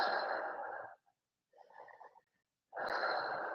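Slow, deep yoga breathing during a stretch: a long exhale, then a faint short breath after a pause, then another strong close breath starting.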